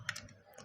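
Keys tapped on a computer keyboard while entering input for a Python program: a few quick, faint clicks, close and quiet, with no talking.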